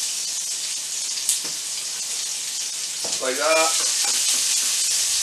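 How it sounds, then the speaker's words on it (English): Onions fry in hot oil for chicken pad thai, giving a loud, steady, hissing sizzle throughout, with a brief voice speaking over it partway through. "throw the onions in, I believe, and fry for a minute"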